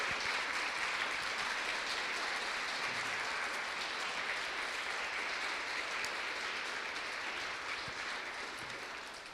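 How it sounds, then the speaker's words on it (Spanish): A church congregation gives sustained, dense applause during a worship service, a steady even roar of clapping heard from within the room that holds for about nine seconds and fades slightly at the end. "Dale un aplauso a Cristo Jesús."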